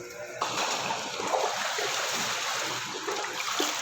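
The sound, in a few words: shower running water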